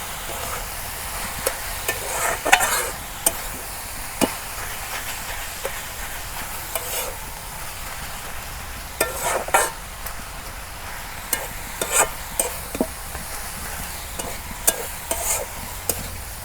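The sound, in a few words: stir-frying cabbage in a pan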